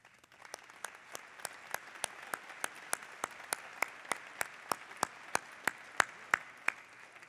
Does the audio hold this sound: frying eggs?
no